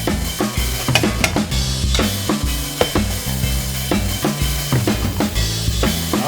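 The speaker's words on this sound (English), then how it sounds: "We've got 2 tablespoons of butter and our garlic and our onion, and we're just going to go ahead and saute this up" Butter, garlic and onion sizzle steadily in a pan while a utensil stirs and scrapes in a repeated rhythm, close and fairly loud with no talk.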